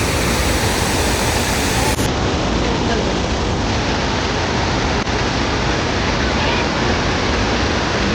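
A large waterfall in Coorg during the monsoon roars as a loud, unbroken broadband rush of falling water, heard from close by, with faint voices buried in the noise.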